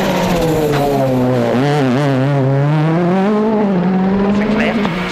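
Petter Solberg's car number 4, a works rally car on a Monte Carlo Rally stage, screams past loud and close, engine pitch rising and falling through gear changes, with a commentator talking over it.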